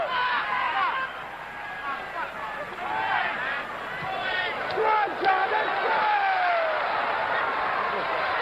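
A football stadium crowd at a 1976 Team America versus England match roars and cheers, a broad sustained swell that rises toward the middle, with a commentator talking over it.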